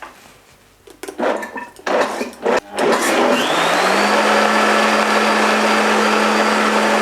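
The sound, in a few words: blender pulsing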